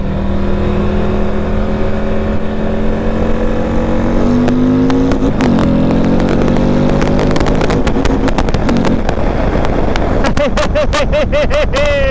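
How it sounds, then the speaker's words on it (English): A Harley-Davidson Street Glide 135 motorcycle pulls from a slow roll in second gear, its loud, close engine note climbing steadily in pitch under constant wind rush, with a burst of rapid rumbling pulses near the end. "Putting it in second gear and starting from a slow roll is just wow."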